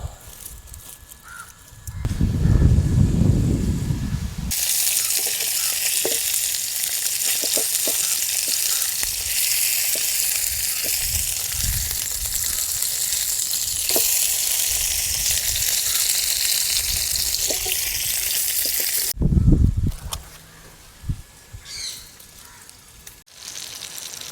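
Foil-wrapped bullet tuna cooks over an open village fire, giving a steady loud crackling sizzle for most of the stretch, with a low rumble and a few thumps near the start and end.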